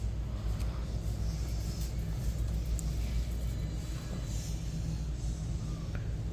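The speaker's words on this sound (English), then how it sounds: "Oh, we are out in the car" Steady low road rumble from inside a moving car, a continuous drone of engine and tyre noise heard close and even throughout, with no talking.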